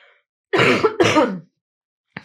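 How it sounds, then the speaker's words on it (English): Two rough throat-clearing coughs in quick succession from a nearby person, loud and close, followed by silence and a brief faint sound at the end. "I need to cough."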